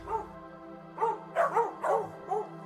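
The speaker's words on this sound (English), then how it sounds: "Your neighbor's dog barks, startling you." A neighbor's dog barks nearby, giving about five or six short, moderate barks in an uneven cluster over a low steady hum, with no voices over it.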